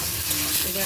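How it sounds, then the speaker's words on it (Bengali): Minced meat keema frying in a pan, a steady close sizzle running through the short stretch with faint stirring, no voices. "কিমাটা আমি ভালো করে ভেজে নেব।"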